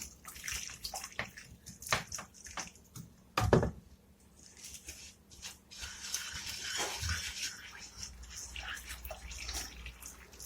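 Hot water pours into a pot of stuffed vine leaves with a gurgling, splashing stream that is quiet and near. A sharp clatter comes partway through, and then the water runs steadily.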